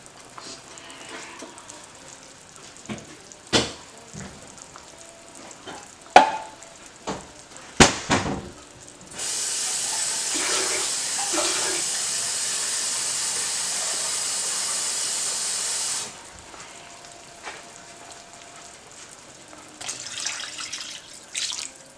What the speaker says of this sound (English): You don't want the water to boil down too much because it is a lot of meat fat